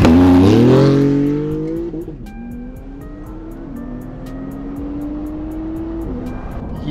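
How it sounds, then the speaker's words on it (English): Porsche 911 GT2 RS sports car launching hard with launch control on cold tires, its engine roaring loudly and climbing in pitch, then dropping slightly and building steadily through first gear as the car pulls away. "Let's see this launch control real quick."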